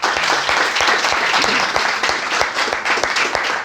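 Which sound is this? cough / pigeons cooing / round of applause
round of applause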